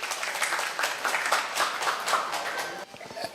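A loud, dense round of applause from an audience at an opening ceremony, continuous clapping close by and steady throughout, with a slight dip near the end.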